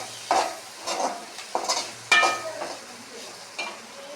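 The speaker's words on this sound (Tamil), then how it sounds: "ஆனால் மிளகாத்தூளையும் கீரோடையே கொஞ்சம் நான் வதக்கி விட்டுருவேன்." Drumstick leaves sautéing with chili powder in a pan make a soft continuous sizzle, broken by several scraping stirs of a spoon against the pan.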